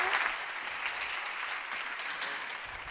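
Sustained audience applause fills a hall at a women's investment summit, a dense, steady clatter of many hands at moderate loudness with no voices on top, holding evenly throughout.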